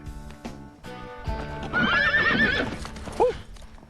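A horse gives a loud, quavering whinny close by, with hooves clopping on hard ground underneath and a short snort near the end, in a sitcom scene.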